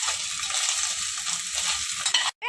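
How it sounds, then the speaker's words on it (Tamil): Onion and ginger garlic paste sautéing in a pan with a bright continuous sizzle and rhythmic stirring knocks, close up, cutting off abruptly just before the end. "சேர்த்துட்டு நம்ம இதை இன்னும் நல்லா வதக்கிக்கலாம்."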